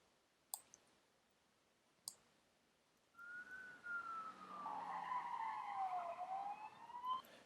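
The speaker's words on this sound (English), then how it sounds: "We've got a car screeching, we've got sirens." A couple of sharp clicks, then a rising and falling siren wail sweeps in and holds with a car-tire screech-like whine, fairly loud against quiet surroundings.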